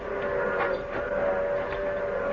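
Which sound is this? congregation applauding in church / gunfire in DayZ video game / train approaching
train approaching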